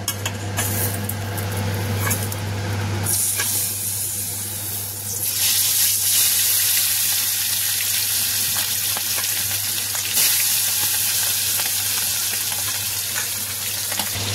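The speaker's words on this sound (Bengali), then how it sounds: "তো দেখো মাছটা কিন্তু ফ্রাই হচ্ছে" Fish fries in hot oil in a wok with a loud, continuous sizzle and sharp spattering bursts, constant throughout with no talk.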